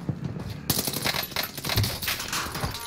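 Rapid bursts of gunfire from a first-person shooter match, fast cracking shots layered over game background noise, fairly close and steady throughout, with no voices over the firing.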